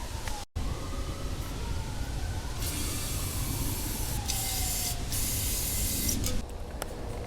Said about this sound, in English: what I'm going to use now is some carb cleaner. Just spray everywhere where there's this black stuff